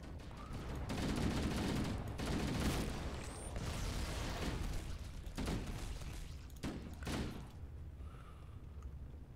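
Gunfire at a shooting range in Halo: Combat Evolved, rapid bursts of muffled, booming shots in clusters, fairly distant and quiet, fading to near silence toward the end.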